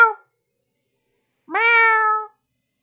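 A pet cat meows indoors: a brief clipped mew, a pause, then a longer, louder drawn-out meow, close by and alone without talk.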